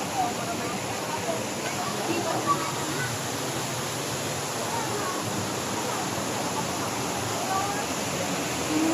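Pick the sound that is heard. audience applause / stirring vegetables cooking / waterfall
waterfall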